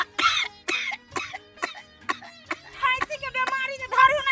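A person coughs repeatedly in quick succession, about nine short, harsh, close coughs in a steady rhythm, with voiced, strained edges in between.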